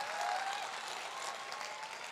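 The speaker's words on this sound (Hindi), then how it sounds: "एक जोरदार तालियां होनी चाहिए।" Loud, continuous applause from a large audience at a motivational business event, a thick wash of clapping with a faint whistle-like tone near the start.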